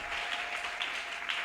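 Congregation applauding together during a church worship service, a steady dense wash of clapping sustained throughout with a faint held tone underneath.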